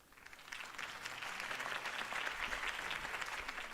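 Steady applause from a crowd in the video game Batman: The Telltale Series, dense clapping that swells slightly and holds throughout, with no voices standing out.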